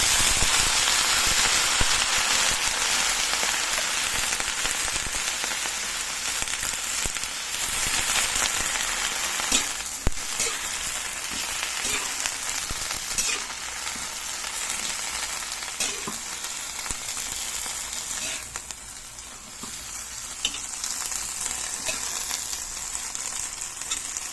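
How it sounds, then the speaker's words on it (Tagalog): Kangkong (water spinach) is stir-fried in a pan for adobong kangkong, giving a loud, continuous sizzle and crackle that sounds almost like rain, with occasional utensil scrapes throughout. "Mix na natin guys yung kangkong."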